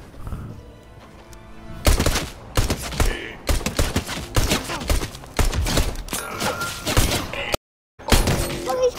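Fortnite weapon fire aimed at the sky: loud bursts of rapid gunshots in several separate volleys with brief gaps between, close and dominant, with a short full dropout near the end.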